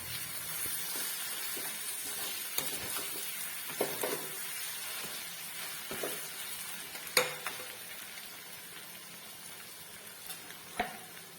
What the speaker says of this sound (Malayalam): ഇനി ഇത് ലോ ഫ്ലെയിമിലേക്ക് മാറ്റിയിട്ട് ഇടയ്ക്കൊന്ന് ഇളക്കി കൊടുത്ത് ചിക്കൻ ഒന്ന് വരട്ടി എടുക്കാം